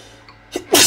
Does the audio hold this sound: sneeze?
yes